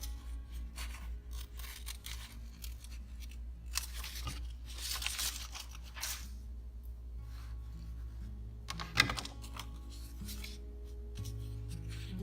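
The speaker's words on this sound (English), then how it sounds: "So I'm going to go ahead and cut this out." Scissors snip and crunch through a paper photo in short, uneven cuts with faint rustling, close and fairly quiet over a low steady background hum.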